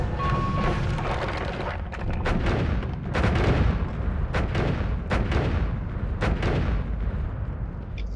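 Explosions rumble and crack in Noita, a dense barrage of booming blasts and sharp bursts layered continuously over a loud roaring background.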